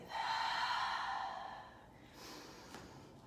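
One long audible breath is released slowly during a yoga flow, a soft, breathy exhale that fades out, followed by a fainter second breath.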